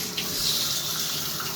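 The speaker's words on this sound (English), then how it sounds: "Something about the water coming out." Water running from a faucet in a home's master bathroom with a reported water issue, a steady, fairly loud rushing hiss that continues unbroken throughout with no talking.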